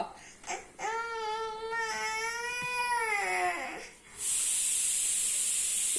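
A pressure cooker's loud, wavering whistle rises and holds for a few seconds, then gives way to a strong, continuous hiss of escaping steam, close by.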